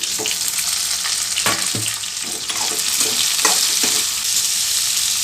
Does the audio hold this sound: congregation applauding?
no